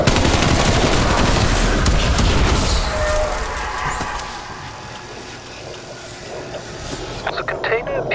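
Bursts of gunfire and a stun grenade blast from the zombies mode of the video game Call of Duty Black Ops Cold War, loud and dense with rattling shots and chaotic effects throughout, with a voice talking over the action.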